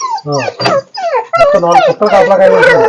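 A pedigree guard dog kept at a gamecock farm whimpers and yips close by, its high whining cries overlapping with people talking throughout.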